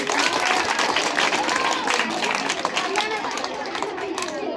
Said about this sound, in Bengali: একটা জোরে করো তালি